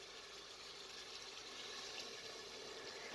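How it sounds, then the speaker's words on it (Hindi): About two glasses of water pour into a pot of turnip and meat curry (shaljam gosht) cooking over a medium flame, a soft, continuous splashing hiss heard alone and close. "अब आप इसके अंदर तकरीबन 2 गिलास पानी शामिल कर दें।"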